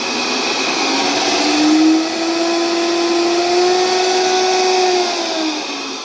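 A blender running on a CYBPULTE C011 portable power station, a loud continuous motor whir whose pitch rises and dips slightly over several seconds, with no talking.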